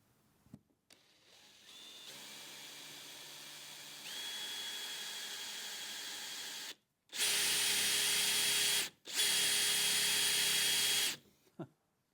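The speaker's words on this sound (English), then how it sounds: "They do give you a blunt drill bit." A power drill with a blunt bit drills a hole in a Ford Focus bumper, whirring in several sustained runs, rising in pitch and loudness across bursts separated by short pauses, close up.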